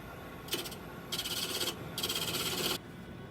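A hand tool rasps across cocobolo wood to shape a shoulder in three close scraping strokes, each a bright, gritty rub lasting under a second, with brief quiet gaps between strokes.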